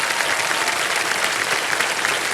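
Studio audience applause for a contestant on the Hindi quiz show Kaun Banega Crorepati, a dense, steady burst of many hands clapping with no break throughout.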